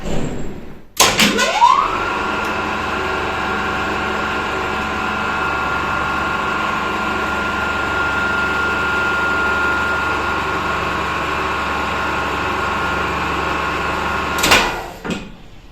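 An old, rickety lift in Bulgaria: a sharp clunk as it starts, then a steady motor hum and machinery drone for over ten seconds, ending with another clunk and rattle as it stops.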